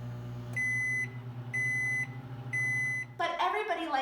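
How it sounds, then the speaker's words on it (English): Microwave oven emitting three evenly spaced, clear electronic beeps over a steady low hum, followed by a person starting to talk as the beeping stops. "I'm making popcorn and the microwave beeps"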